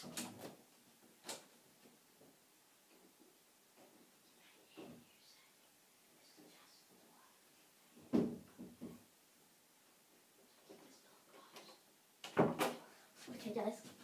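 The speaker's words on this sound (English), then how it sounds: "I'll just close all the doors." Several soft thuds and clacks of doors shutting at intervals in the Xbox 360 game A World of Keflings, with quiet speech in between and a louder pair of bangs near the end.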